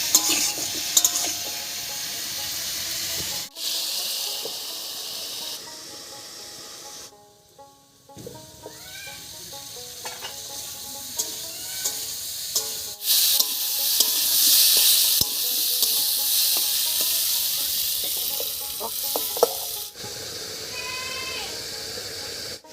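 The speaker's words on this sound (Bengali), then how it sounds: "ঢাকা দিয়ে দিয়ে আলু আর কপিটাকে একটু ভাজা ভাজা মতো করে নেব" Potato and cauliflower pieces fry with salt, turmeric and split green chilies in a covered pan, making a continuous sizzle that rises and falls, broken by brief quiet gaps and occasional clinks and stirring.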